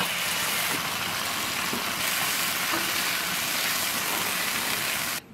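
Seasonings, dried chilies and Sichuan peppercorns sizzle and fry in a pan, a dense steady hiss close up that continues without pause and then cuts off abruptly.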